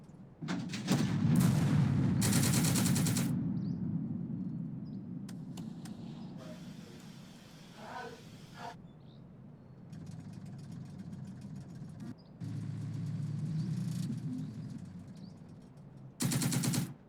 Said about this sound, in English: They survived all that gunfire.